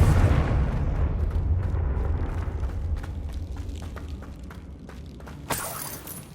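A Confringo blasting spell detonates in the Hogwarts Legacy video game, a loud rumbling boom that rolls on and slowly fades, with a sharper crack near the end.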